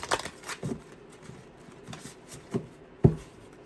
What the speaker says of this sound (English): this one's harder to shuffle